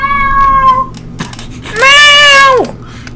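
Two drawn-out cat meows from a video game's kitten, the first steady and clear, the second louder, rising and then falling, separated by a short pause with a faint click between them.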